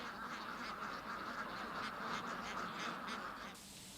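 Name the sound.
Peking ducks quacking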